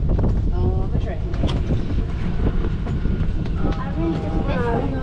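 Butlins seafront land train running along the sea front, its rumbling ride noise mixed with steady wind buffeting the microphone, with a few faint squeaks; people chat nearby throughout.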